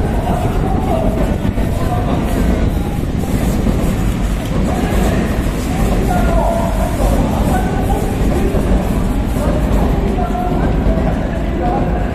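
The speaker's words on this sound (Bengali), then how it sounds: "জাপানের হাই স্পিড ট্রেন শিনকানসেন।" A Shinkansen high-speed train at JR Yurakucho station in Tokyo's Ginza area produces a loud, steady rumble and rail roar that fills the whole stretch without a break.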